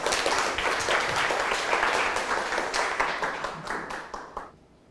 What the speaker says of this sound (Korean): 큰 박수로 맞이하시겠습니다.